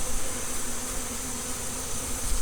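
A swarm of honeybees left in a truck with a box and ice chest, a dense, steady, close buzzing hum that runs continuously.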